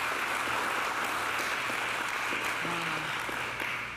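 An audience gives a round of applause for the county executive at a flood recovery briefing in New York, steady clapping heard from a distance that carries on for several seconds.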